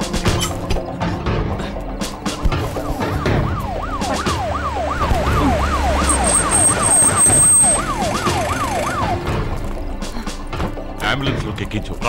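An ambulance siren wails in rising and falling sweeps during a tense Telugu film scene, loud and close against busy background noise, the sweeping pattern strongest through the middle before fading back into the surrounding din.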